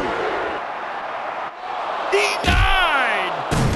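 Game crowd roaring and cheering in a WWE Mayhem wrestling match, loud and sustained, with a slam-like impact, whooshing sweeps and bright effects cutting through, and a commentator's excited voice over it.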